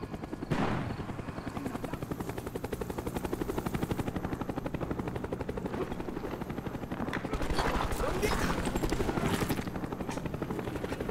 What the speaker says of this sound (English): Cobra on the way.